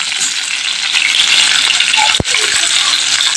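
Potatoes are stirred in hot oil for a home-style Bengali cauliflower roast, giving a loud, steady sizzle. A single sharp clink of the spoon against the pan cuts through midway.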